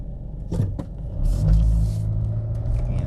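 A 2006 Nissan Frontier XE King Cab pickup drives with a steady low engine rumble that swells as it accelerates, with some road noise and no talking.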